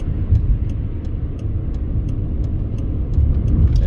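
Interstate traffic on the roads leading to Allegiant Stadium in Las Vegas produces a constant, loud road rumble and tire roar heard from inside a moving vehicle, steady throughout with a slight swell toward the end.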